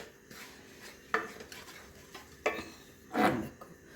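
Spoon scraping and clinking against a heavy-bottomed kadai while stirring a barfi mixture with cardamom powder, a few distinct close knocks and a longer scrape, with no voices.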